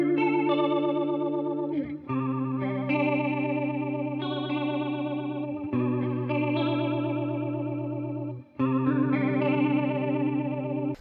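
Electric guitar through a Walrus Polychrome Flanger with the feedback cranked very high, sustained chords taking on a hollow, tubular, vowel-like sweep, restruck three times, close and loud with no talking.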